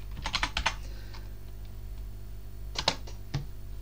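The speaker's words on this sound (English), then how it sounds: "Type sudo apt install Chromium." A Linux command typed on a computer keyboard: a quick close burst of keystrokes, a pause, then a few more taps near the end, heard alone.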